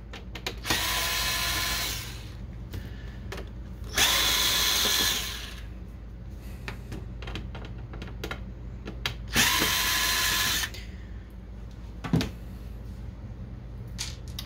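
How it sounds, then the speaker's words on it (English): A screwdriver works screws out of a Canon MG6220 printer during disassembly, with two long bursts of whirring and scattered small clicks and taps of parts in between, close and fairly loud. "what we're going to do is remove the four screws here. There's 1, 2, 3, 4. We're going to use a Phillips screwdriver"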